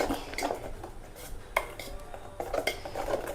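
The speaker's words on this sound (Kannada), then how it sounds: "ಉಪ್ಪನ್ನ ಹಾಕಿ ಇದನ್ನು ಚೆನ್ನಾಗಿ ಮಿಕ್ಸ್ ಮಾಡಿ" A spoon stirs salt into beetroot dosa batter in a bowl, making soft scraping and light clinks against the sides in an irregular rhythm, close but faint.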